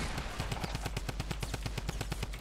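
Rapid automatic gunfire in a Fortnite match, a steady burst of evenly spaced shots running continuously for a couple of seconds, loud and close.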